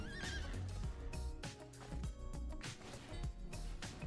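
A horse in the video game Brawl Stars neighs loudly with a shrill, wavering whinny, followed by sharp clip-clop thuds and busy layered effects.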